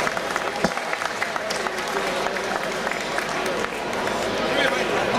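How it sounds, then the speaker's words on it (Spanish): Crowd applause for tango singer Chino Laborde at a live tango performance, a steady dense wash of clapping and cheering that holds loud throughout with voices mixed in. "Fuerte el aplauso para el Chino Laborde."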